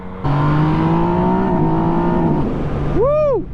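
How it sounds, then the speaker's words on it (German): A Yamaha MT-09 SP naked motorcycle revs hard at full throttle, a loud, close, sustained engine drone that holds steady, then a quick rising-and-falling whine of revs just before it cuts off. "wenn man voll am Gas zieht, die hat so einen richtig geilen, rauchigen Sound"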